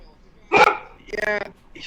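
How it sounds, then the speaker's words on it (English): A dog gives a couple of loud, close barks, separated by a short gap, with no talk over them. "That's my dog responding to your dog."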